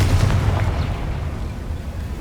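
A Confringo blasting spell explodes in the video game Hogwarts Legacy, a loud booming burst with heavy low rumble that fades away over a couple of seconds.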